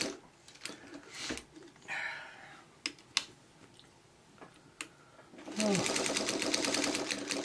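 A sewing machine stitching fabric coasters runs in a fast, buzzing burst near the end, after scattered clicks and handling sounds, with a voice speaking quietly in between.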